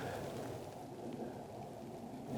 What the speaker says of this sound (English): Oh my goodness, am I being rained on?